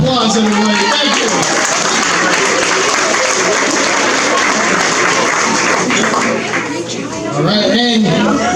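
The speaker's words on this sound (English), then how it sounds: "let's give both our contestants a big round of applause, everybody" A comedy show crowd gives the contestants a loud, dense round of applause with cheers and crowd chatter mixed in, briefly dipping near the end before swelling again.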